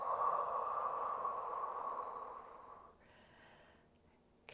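A long, steady breath out during a Pilates mat exercise for back strength, a soft airy rush lasting nearly three seconds before fading into quiet room tone.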